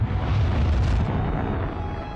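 A supernova explosion rendered as a sound effect: a deep, loud, sustained roaring boom with dense low rumble that swells and then slowly fades, with no talk over it.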